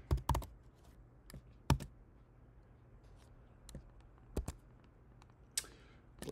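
Scattered keystrokes on a computer keyboard while coding a Next.js application, quiet and close, coming in short irregular bursts of a few clicks with pauses between them.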